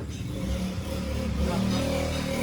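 An Angkas motorcycle taxi engine running and revving nearby, a steady mid-pitched drone that swells slightly partway through, with voices faintly mixed in.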